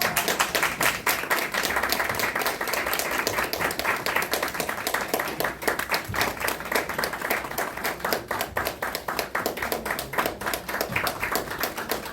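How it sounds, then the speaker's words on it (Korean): Audience applause greets a flower bouquet presentation at a political party press conference, a steady, dense wash of many hands clapping that continues for the whole stretch, with faint voices beneath. "꽃다발 드릴 때 여러분 박수를 보내주면 고맙겠습니다"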